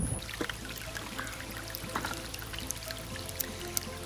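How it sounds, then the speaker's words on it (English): Waterfall flowing in the background outdoors, a faint steady rushing stream with scattered trickles and drips, distant and continuous. "You can probably hear the waterfall in the background."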